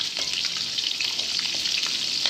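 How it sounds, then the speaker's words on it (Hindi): Green chillies sauté with potatoes in a hot pan for an aloo curry, giving off a loud, steady hiss of oil with small crackling pops and occasional stirring scrapes. "थोड़ा सा हम इसको सौते करेंगे,"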